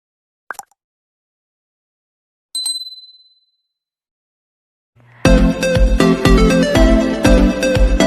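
Notification bell chime sound effect: a short click, then a single bright ding ringing out and decaying, followed by a burst of busy upbeat music, with no talking.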